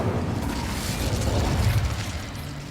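Incendio fire spell cast in Hogwarts Legacy, a dense, steady roaring whoosh of flame with low rumbling bursts that stays loud and close for the whole stretch, with no talking.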